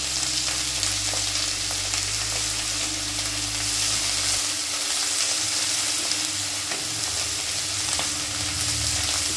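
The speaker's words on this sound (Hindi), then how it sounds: "ये डाला हरा धनिया, ये चलाया हरा धनिया इसमें" Chopped fresh coriander stirred into methi chole in a hot pan, a loud continuous sizzle with a low rumble underneath and faint scraping of a spoon.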